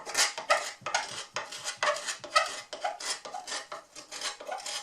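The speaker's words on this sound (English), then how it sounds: "a little bit of sanding got that horrible finish off" Sandpaper scrapes back and forth over an old wooden saw handle, a 1910 Disston D-8, taking off its film finish in a rhythmic series of close, raspy strokes.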